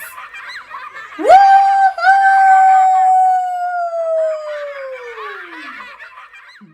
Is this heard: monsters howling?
yes